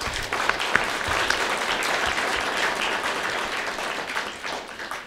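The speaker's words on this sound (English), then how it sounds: "let's have a round of applause for our judges" An audience at a college business idea competition applauds the judges, giving dense, steady clapping from a room full of people that lasts a few seconds and tapers slightly at the end.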